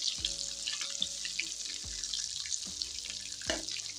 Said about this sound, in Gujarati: અને રીંગણને આપણે પહેલા સરસ તળી લેશું.